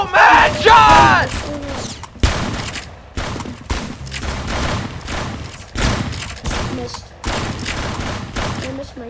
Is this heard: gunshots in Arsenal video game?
yes